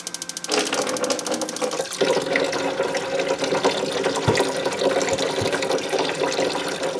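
Hot water runs steadily from a tap at a cottage, a continuous close splashing stream with a faint ratcheting tick at the start and no talk.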